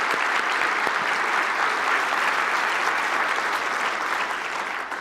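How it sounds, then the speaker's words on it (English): Steady, dense applause from an audience honoring award recipients at a medical staff meeting, sustained and loud throughout, tapering slightly at the end. "Let's give them both a big round of applause again."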